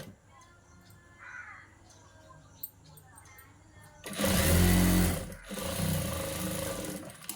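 A sewing machine stitches a puffed blouse sleeve, running in a loud burst after a quieter stretch with faint background sounds.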